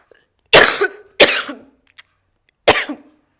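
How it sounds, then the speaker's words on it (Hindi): Three harsh coughs from a woman with a cold, each a short burst with a rough tail, spaced about a second apart, close and loud with no speech between. "देखो खांसी जुकाम हो रहा है"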